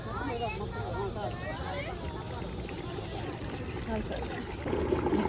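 Water pours into a cooking pot for country-chicken curry broth, a steady trickling wash running alone at moderate level, growing slightly fuller toward the end.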